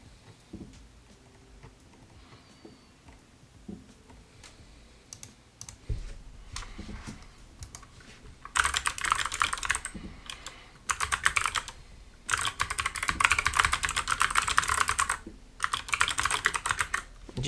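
Typing on a Moonlander keyboard with Kailh Silver switches, close clicking keystrokes that start sparse and quiet, then turn into fast, loud bursts of rapid typing separated by short pauses.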